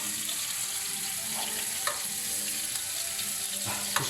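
Meat pieces sear in a small frying pan, a continuous close frying hiss with occasional utensil taps and stirring.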